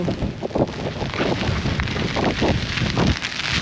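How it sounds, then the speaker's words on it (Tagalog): Strong wind buffets and roars across the microphone without letup, rough and loud, with no voices. "Lakas ng hangin."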